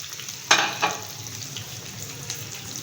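Pieces of finger fish sizzle steadily in oil in a frying pan, a constant close crackle with two sharper bursts early on as the last piece drops in, no voices.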